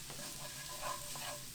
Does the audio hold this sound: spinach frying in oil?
yes